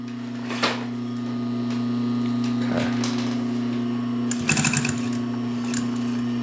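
A Pfaff 134 sewing machine stitches through four layers of heavyweight denim with a steady, smooth mechanical hum, broken by a few clicks and knocks, with a voice speaking briefly.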